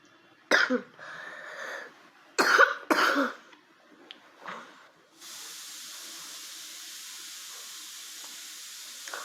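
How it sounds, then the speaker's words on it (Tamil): A few coughs and throat noises come first, then a pressure cooker lets out a steady, continuous hiss of escaping steam. "குக்கர் விசில் சத்தம்."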